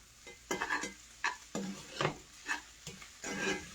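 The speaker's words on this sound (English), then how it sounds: "Get everything stirred up." Spatula stirring spinach and sausage in a pan, a series of about eight scraping, rustling strokes in an uneven rhythm over a faint sizzle, close and clear with no talk.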